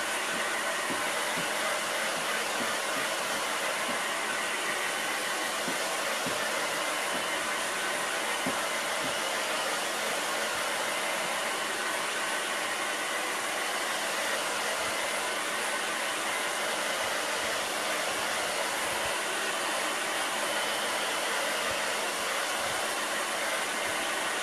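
A hair dryer blows steadily on liquid plaster coating a craft piece, a continuous loud broadband whoosh lasting throughout with no talking.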